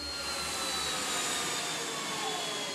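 Jet airliner rolling in toward an airport gate, a continuous broadband engine roar with faint whine tones, steady and fairly loud throughout, with no voices.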